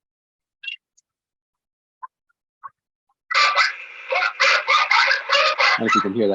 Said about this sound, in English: that barking goes on over the sheriff's band